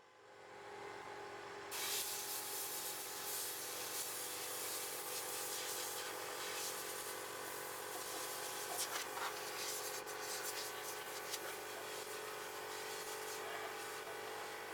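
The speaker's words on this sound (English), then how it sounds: "Turn it right side up again and blow that debris out." Compressed air blasts steadily through a tankless water heater to clear out debris, a loud continuous hiss that starts abruptly after a quiet moment and holds with slight surges and rattles.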